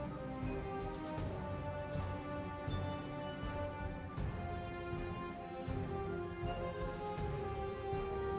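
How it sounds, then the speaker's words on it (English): Steady rain patters and hisses throughout a Panzer Corps 2 wargame scene, a dense continuous wash with faint thunder-like rumble beneath and a soft droning music bed. "Okay, a little bit of rain."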